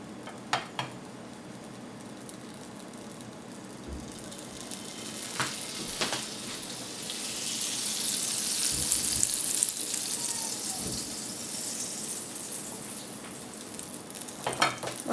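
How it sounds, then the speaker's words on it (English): Butter melting in a heated pan gives a soft, steady sizzle and frying hiss that swells gently partway through, with a few faint clicks and clanks of cookware and no voices. "Once it's heated up a little bit, I'm going to add some butter"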